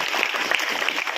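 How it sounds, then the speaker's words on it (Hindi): Loud, dense clapping from a school audience honouring themselves, a steady unbroken burst of many hands filling the room with no voices over it. "अपने आप के लिए जोरदार ताली"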